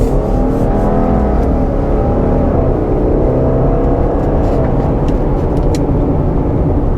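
A 2022 Subaru Outback Wilderness with a CVT transmission accelerates from inside the cabin, its engine drone loud and steady and rising through faint simulated gear steps, with no talking.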